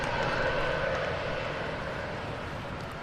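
Airliner taxiing in at a wet, windy Manchester Airport: a steady, fairly close engine rumble and whine that holds level for the whole stretch, fading only slightly toward the end.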